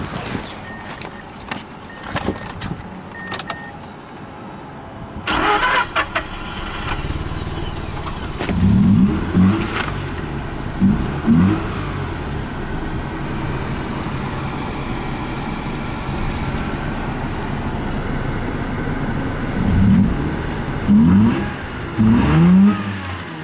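An old project car, once known as one of the worst cars made, cranks over and its engine catches, then revs unevenly and roughly with bursts of throttle, sounding unhealthy and close by.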